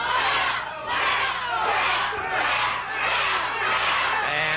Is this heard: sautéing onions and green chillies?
no